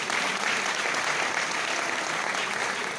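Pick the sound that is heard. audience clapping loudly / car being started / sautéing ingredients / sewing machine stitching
audience clapping loudly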